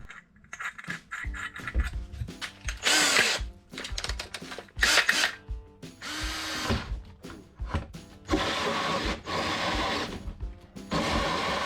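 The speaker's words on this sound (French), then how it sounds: "Ok, allez, je perce." Electric drill boring a hole on a sailboat during a 220V electrical installation, stop-start whining bursts of the motor revving up and down with clattering pauses between them.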